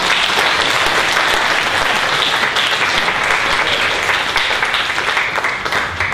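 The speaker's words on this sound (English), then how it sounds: "You can applaud loudly if you wish." A workshop audience applauds after a poetry reading: loud, dense, sustained clapping from many people that fills the whole stretch without pause.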